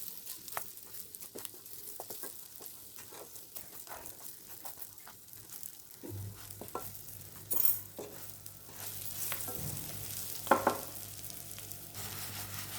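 Eggs dry-roasting in a pan for a Tamil egg fry, with a soft sizzle throughout and intermittent scraping stirs; the frying grows denser and louder after a few seconds, with occasional sharper clinks, and no talking.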